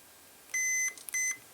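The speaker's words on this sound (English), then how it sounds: "so it'll beep if there is current flow, in other words, complete path" A digital multimeter on continuity mode emits two short, clear electronic beeps in quick succession while its probes touch a surface-mount pin on an ultrasonic levitator kit board, in an otherwise quiet room.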